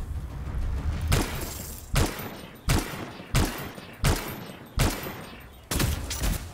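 Repeated heavy gunfire blasts from weapons in the sci-fi action game Anthem, six or seven loud sharp bursts at roughly regular intervals over a rumbling background, with no talk.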